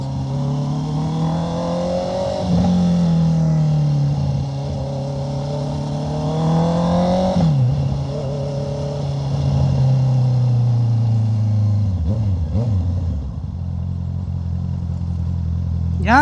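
Road traffic in a jam near an SM mall, heard from a Honda CBR650R motorcycle: a loud, close engine hum that rises and dips as the bike creeps along, with other vehicles rumbling around it.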